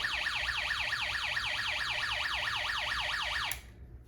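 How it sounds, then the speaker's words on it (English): An electronic alarm from a Snap Circuits Extreme SC-750 kit warbles rapidly up and down in a repeating siren pattern, loud and steady, then cuts off abruptly near the end. "we're going to turn it on, and you will see it will play an alarm sound."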